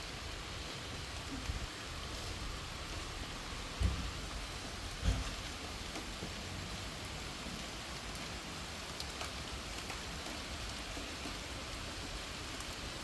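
Heavy rain pouring over an open farm field during planting, a dense steady hiss throughout, broken by two low dull thunder thumps a little over a second apart, with no speech.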